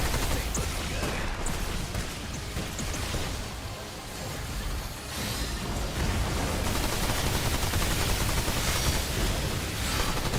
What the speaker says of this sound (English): Tommy gun is absolutely fire. It's amazing. I use it on so many of my builds just because it's got such power, such high fire rate.